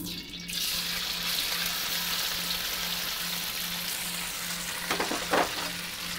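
Tofu for Pad Thai fries in a hot pan with a loud, even sizzle, and a burst of stirring comes near the end.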